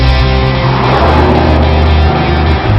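BMW M3 accelerating hard on a road, a loud, close engine roar with rising tonal harmonics that climb and shift through the revs, continuous and dominant with no talk.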